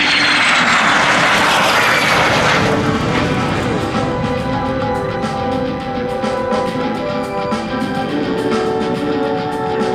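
A de Havilland DH-115 Vampire jet roars loudly overhead at a flight display, a broad whooshing rush that peaks early and then settles into a steady, droning engine whine.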